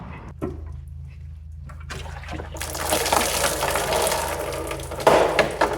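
Running water drains from a Pontiac Firebird Trans Am engine, pouring and splashing steadily for several seconds after a low hum, ending in a louder gush.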